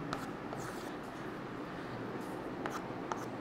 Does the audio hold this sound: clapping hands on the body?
no